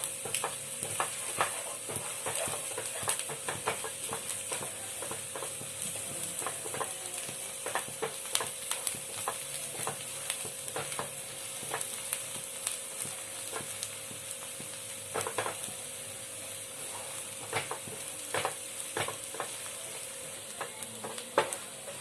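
Gram flour being dry-roasted and stirred in a pan for matar kachori, with a soft steady sizzle and frequent scraping clicks of the spoon against the pan, close and alone.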